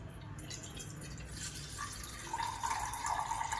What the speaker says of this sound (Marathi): आपण आता याच्यावरचं पाणी काढणार आहे. हे लालसर आलेलं पाणी काढून घ्यायचं याला.